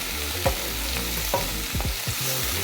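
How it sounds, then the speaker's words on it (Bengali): Onions with green chilli and nigella seeds frying in mustard oil in a wok, a steady sizzle under repeated scraping stirs of a spatula, close and moderately loud, no talk. "কড়াইয়ে সর্ষের তেল দিয়ে কাঁচা লঙ্কার কালো জিরো ফোড়ন দিয়ে পেঁয়াজগুলো দিয়েছিলাম"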